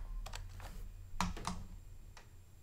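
A few quick keystrokes on a computer keyboard, close and fairly quiet, tapped in short irregular clusters with pauses between them and no voices.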